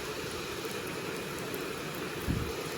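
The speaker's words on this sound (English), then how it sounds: "that sound you hear is rain on the roof." Steady rain falling on a roof heard from indoors, a constant soft hiss of drops with one brief low thump near the end.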